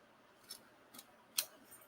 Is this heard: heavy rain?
no